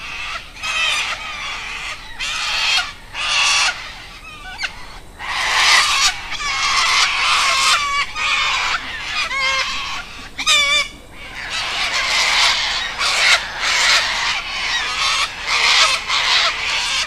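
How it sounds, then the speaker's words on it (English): A flock of birds calls loudly and continuously outdoors, with overlapping raucous squawks and honk-like cries in dense bursts, no talking. "Here come my parrots."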